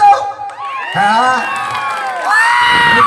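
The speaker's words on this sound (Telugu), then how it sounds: "చప్పట్లు" An audience at a folk song performance in Vizianagaram cheers with loud whoops and high shouts in short bursts. The crowd noise is close and lively.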